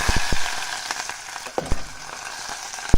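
Onion, sweet pepper, garlic and crushed thyme dropped into hot oil, hissing with a steady close sizzle broken by sharp pops and crackles, with no one talking.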